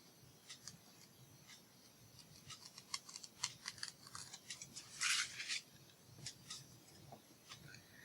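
Scissors trim a small overhanging strip of paper at the bottom of a page, a quick run of soft, close snips with one longer crisp cut midway, all fairly quiet with no talking.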